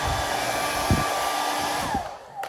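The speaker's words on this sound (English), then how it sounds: "So you'll want to run your hair dryer over it a tad bit." A hair dryer heating vinyl wrap blows with a steady, loud whooshing hum that cuts off near the end, with a few soft thumps underneath.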